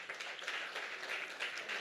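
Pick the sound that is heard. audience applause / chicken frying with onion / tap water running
audience applause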